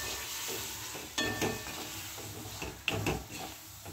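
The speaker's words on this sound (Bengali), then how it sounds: "কড়াতে দিয়ে ভালো করে নাড়বো" Marinated soya chunks with cashew and yogurt being stirred in a kadai over low gas, a soft steady sizzle broken by several scraping strokes of a spoon against the pan.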